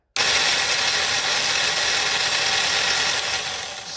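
An electric winch motor runs freewheeling with its clutch disengaged, giving a loud, steady whirring drone that holds constant for several seconds and then eases off slightly near the end, with no voices.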